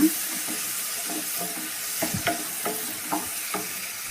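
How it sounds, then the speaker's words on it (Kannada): Spices fry in a pan for a coastal-style fish curry, a steady sizzle with several scraping stirs of a spoon at irregular intervals, close and alone without talk. "ಇದನ್ನು ಸ್ವಲ್ಪ ಚೆನ್ನಾಗಿ ಫ್ರೈ ಮಾಡ್ಕೊಳ್ಳೋಣ"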